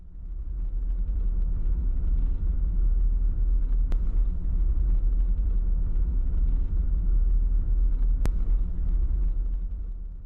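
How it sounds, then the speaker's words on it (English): A four-wheel drive vehicle travels a state forest gravel road, its steady low rumble holding level throughout with no talk, and two brief sharp ticks stand out over the drone. "we were already finding ourselves traveling along some state forest gravel roads"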